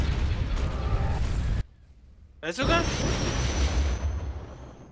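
A hypervelocity cannon fires in the space strategy game Star Wars: Forces of Corruption, a heavy blast cut by a brief gap and then a rising burst with a lingering whine, and a voice speaks briefly over it.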